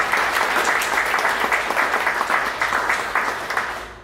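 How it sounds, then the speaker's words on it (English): Applause from a seated audience at a 1 Million Cups Dallas pitch event, a dense, steady wash of many hands clapping that fades slightly toward the end. "Please help me give him a round of applause."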